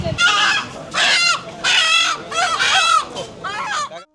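Free-range village chickens at a market in Dohar, Dhaka cluck and squawk in repeated bursts, near and fairly loud, with brief pauses between calls.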